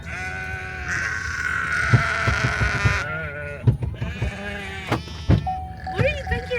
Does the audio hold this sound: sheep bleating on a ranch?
yes